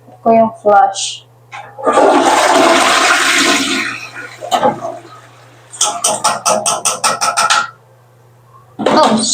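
A toilet flushing in an abandoned hotel's bathroom during cleaning, a loud rushing swirl of water lasting a couple of seconds, with people talking before and after and scrubbing sounds nearby.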